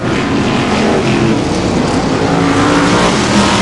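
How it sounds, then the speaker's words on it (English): Brisca F1 stock cars race past on the Birmingham Wheels oval during a heat, a loud, continuous, close engine roar that fills the whole stretch with no break. "into the home stretch again, and Utley car number 489 is there."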